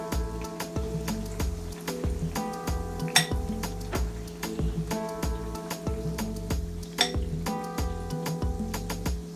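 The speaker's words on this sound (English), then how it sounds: "Now I'm going to remove these plantains" Plantains being lifted from a cooking pot into a bowl, with repeated light metal-on-crockery clinks and scrapes in an uneven rhythm over a steady background, close and clear with no talking.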